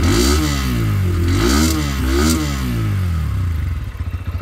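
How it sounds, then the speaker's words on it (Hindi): A Bajaj Pulsar N125 motorcycle exhaust heard up close as the engine is revved several times in rising and falling sweeps, then settles to a loping, pulsing idle. "ये था इस बाइक का कुछ एग्जॉस्ट नोट।"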